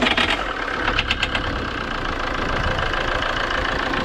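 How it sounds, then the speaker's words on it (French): A Fiat 1.9 JTD diesel engine with a leaking, sticking injector turns over and settles into a steady, rough idle with a rattling, knocking quality, loud and close, with no voices. "Démarrons l'auto."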